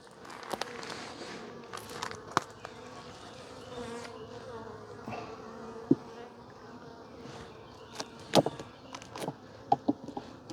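Honey bees at an open hive during a frame inspection, a steady mid-distance buzzing drone running throughout with occasional sharper passes of individual bees close by and light handling clicks.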